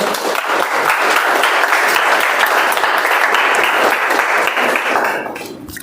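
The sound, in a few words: applause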